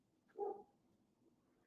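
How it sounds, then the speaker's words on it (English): A single short dog bark from outside, faint and distant, followed by quiet background. "I gotta let my dog in."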